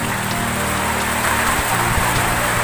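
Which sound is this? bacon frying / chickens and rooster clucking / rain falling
rain falling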